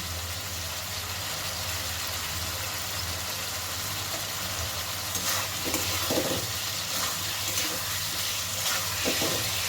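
Tomato and sugar sizzle softly in a pan while being stirred, a steady low frying hiss with occasional spoon scrapes growing a little louder toward the end.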